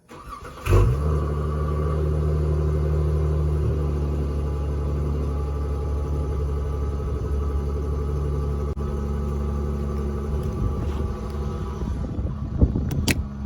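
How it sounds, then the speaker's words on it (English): A 2020 Dodge Challenger engine cranks and fires, then settles into a loud, deep, steady idle rumble close by, with a brief rev and some clatter near the end. "let's do a startup of the car"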